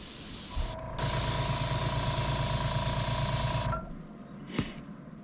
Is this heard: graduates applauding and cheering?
no